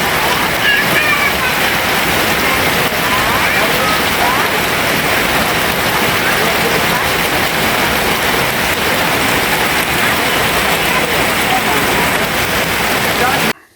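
Heavy rain pours steadily and loudly, a dense unbroken hiss of drops hitting surfaces for the whole stretch before stopping abruptly at the end.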